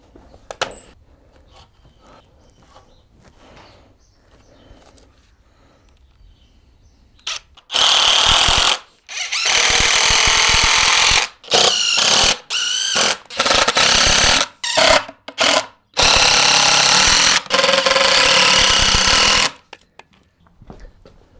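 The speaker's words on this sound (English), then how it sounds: "7 feet by 4 feet, and we just got to screw it together." A power drill drives screws into a 3/4-inch plywood chicken coop floor, 7 by 4 feet, in loud close bursts of whirring with short pauses between screws, after a quieter stretch at the start.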